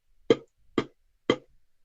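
A voice imitates a bass drum with three short, punchy beatboxed kicks, evenly spaced and isolated in silence.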